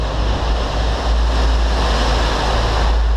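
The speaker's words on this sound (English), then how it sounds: "It's pouring rain" Heavy rain pouring outdoors in the early morning, a dense, steady roar with strong low rumble, loud and unbroken with no voices.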